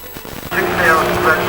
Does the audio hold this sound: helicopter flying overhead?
yes